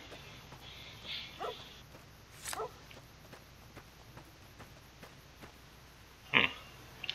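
A dog named in Fallout 3 gives a few short, sharp barks and yelps amid quiet game ambience, with one louder bark near the end.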